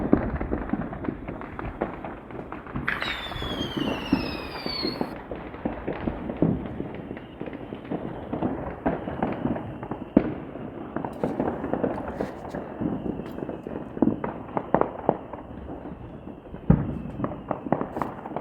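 Virtual New Year's 2024 fireworks in JanusXR crackle and pop continuously in dense rapid bursts, with a whistling rocket early on and scattered louder bangs over a steady crackling bed.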